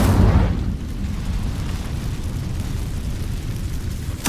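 The Incendio fire spell is cast in the Hogwarts Legacy video game, giving a loud fiery burst at the start that settles into a deep rumbling roar, with a sharp crackle at the very end.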